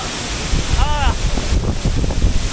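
Chelavara waterfall in Coorg, swollen by heavy monsoon flow, makes a loud, dense, steady roar up close, mixed with wind buffeting and spray hitting the microphone; a brief voice sounds faintly under it.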